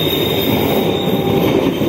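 A passenger train hauled by a CC 201 diesel locomotive rumbles past at close range, a steady loud roar of rolling cars with a faint high squeal above it.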